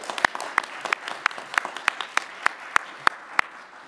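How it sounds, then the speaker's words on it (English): Applause during a church morning worship service, with one person clapping loudly and steadily right beside the microphone in an even rhythm, over a softer wash of congregation clapping in the background. "Let's give another round of applause as they're leaving."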